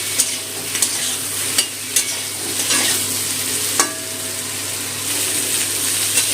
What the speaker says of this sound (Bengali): কাঁচা আমটা বেগুনের সাথে একটু ভেজে নেব